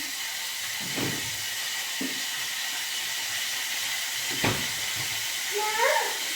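Mustard seeds and curry leaves hitting hot oil, a steady hiss with a few faint crackles and pops, while someone talks over it.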